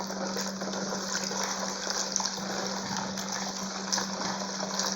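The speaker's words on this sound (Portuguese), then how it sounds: "Vou colocar mais água." Water being poured into homemade no-knead bread dough in a home kitchen, a steady continuous gush with a constant tone underneath, moderately loud and without talk.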